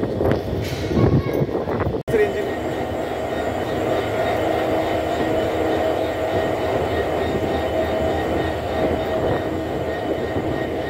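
A train at the Cox's Bazar railway station platform gives a steady, loud rumbling drone, with talk and a brief sharp knock early on.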